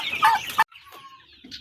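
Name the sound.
Rhode Island Red chicken clucking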